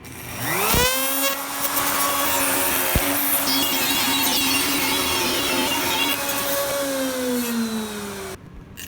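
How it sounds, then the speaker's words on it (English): A router spins up with a rising whine and cuts recesses into a wooden workbench, holding a loud, steady high-pitched roar with grinding texture for several seconds before winding down, close by and without talk. "I just used the fence on the router to cut those recesses."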